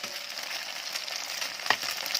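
Thai mussel omelette (hoi tod) frying in a pan, a steady broadband sizzle and crackle of hot oil throughout, with one sharper pop or spatula tap near the end.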